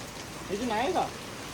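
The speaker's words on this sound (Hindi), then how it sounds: "कितनी जोर के बारिश" Heavy rain keeps up a constant broadband hiss, with a brief voice rising over it midway.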